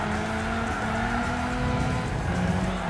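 In Gran Turismo 6, a front-wheel-drive Toyota slides sideways through a corner during a club race, its tires squealing in a steady high whine over the droning engine. No one speaks.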